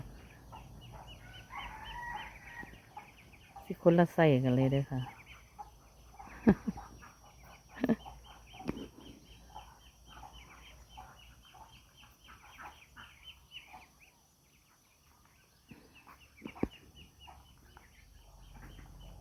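Backyard hens, one of them brooding eggs, cluck in short scattered bursts close by, with a louder flurry early on and a voice speaking briefly among them.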